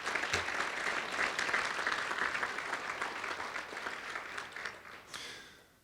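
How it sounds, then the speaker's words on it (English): An audience at the 2023 Mid-Columbia Ag Hall of Fame ceremony applauds the honorees and their families, a steady wash of many hands heard from a distance that tapers off at the end. "Let's give them a round of applause"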